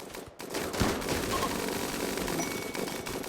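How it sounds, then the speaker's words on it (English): A gunfire volley in the colony-building game Rimworld forms a dense, continuous crackle of overlapping shots from several shooters, steady and fairly loud, with no speech over it. "Come on, keep firing, people."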